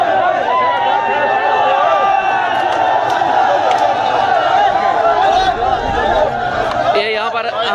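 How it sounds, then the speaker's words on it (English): A noisy protest crowd in Khuiratta, Azad Kashmir, chatters and shouts in a dense, steady wash of many voices that swells toward the end, with a nearby voice speaking over it. "the volume is also increasing of the crowd"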